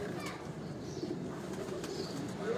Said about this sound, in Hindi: ये दोस्तों कुछ चंद कबूतर बाहर रखे हैं।